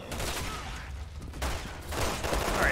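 Gunfire in the video game Resident Evil 6, a rapid volley of shots that continues for the whole short stretch.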